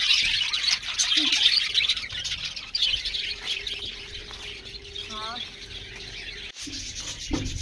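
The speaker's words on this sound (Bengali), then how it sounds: "দোলনায় বসে এই রকম সুন্দর পাখির আওয়াজ শোনা" Birds chirp and twitter steadily in the background at Tajpur, a bright outdoor chorus with a few louder calls nearby.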